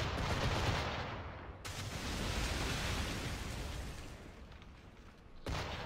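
Broadside cannon fire from sailing ships in the pirate naval game Assassin's Creed IV: Black Flag, a sustained roar of booming gunfire and rumbling blasts that fills most of the clip, breaking off briefly before resuming near the end.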